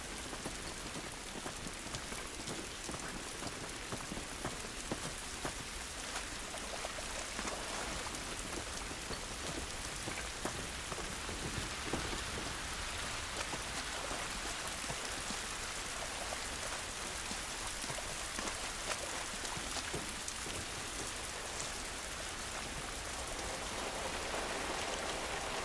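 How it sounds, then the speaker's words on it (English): Steady heavy rain pattering on surfaces in an outdoor scene of The Last of Us Part 2, a dense continuous wash of drops lasting throughout with no voices. "This rain ain't gonna do us any good."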